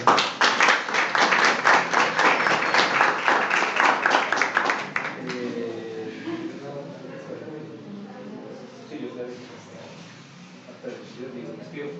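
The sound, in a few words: audience applause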